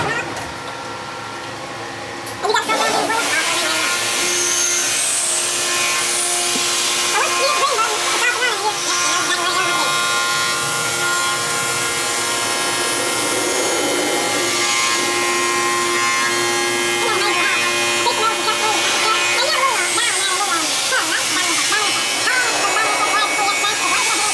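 A CNC machine in a workshop starts up a few seconds in, then runs with a loud, steady, grinding cutting noise and a hum of machine tones. Voices speak over it now and then.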